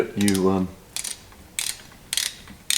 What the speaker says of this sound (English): It's one thing with click stop wrenches that I always am a little cautious with